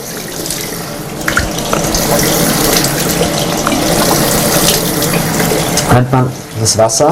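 A tap runs steadily into a sink as someone washes for ablution, a loud, continuous stream of water whose flow is broken by splashing and shifting near the end.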